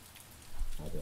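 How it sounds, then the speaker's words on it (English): Rain falls outside in a brief, soft wash of steady hiss and patter, with a low thump near the end. "It's raining outside."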